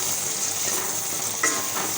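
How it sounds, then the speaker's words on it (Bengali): Onion and garlic fry in a pan, a loud, steady hiss and sizzle close by, with one brief scrape of stirring near the end. "এই যে পেঁয়াজ রসুনটা ভাজা ভাজা হয়ে গেছে"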